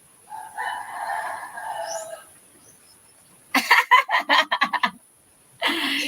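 Chickens cluck and cackle in a quick burst of sharp, choppy calls after a stretch of quieter background sound, then a second burst follows at close range.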